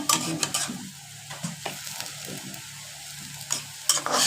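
Bitter gourd with spice powder fries in a generous amount of hot oil, giving a close, continuous sizzle punctuated by a few sharp stirring clicks and scrapes, with no talking.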